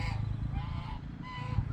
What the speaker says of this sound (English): Here come the geese again.